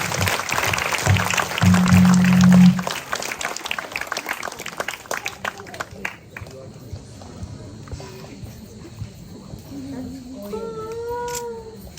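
Applause from an audience welcoming a troupe of teachers onto the stage for a comic drama, a dense clatter of clapping under an announcer's voice that fades out midway, followed by quieter talk and singing.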